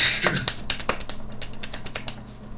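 Quick, crisp handclaps from a single person follow each other in a rapid, slightly uneven run, close and clear, slowing a little toward the end.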